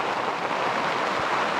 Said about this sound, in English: It's pissing down rain and blowing like stink.